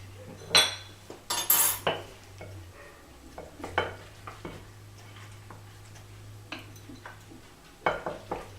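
Cutlery clinking against a plate of noodle kugel with apricot preserves, several sharp scrapes and taps early on, then sparser light clicks over a low hum.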